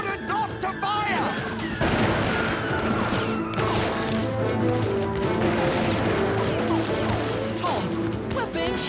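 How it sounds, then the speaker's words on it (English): Battle gunfire from muskets in an animated scene, a dense, loud barrage of overlapping shots and crashes filling the whole stretch, with shouting voices mixed in. "Tom, we're being shot at!"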